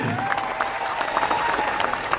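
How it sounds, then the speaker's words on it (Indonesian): An audience applauds at a gathering, a steady wash of many hands clapping with a faint tonal hum underneath, continuous and even for the whole moment. "Tepuk tangan dulu untuk Anda semuanya."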